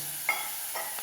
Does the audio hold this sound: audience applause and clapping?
no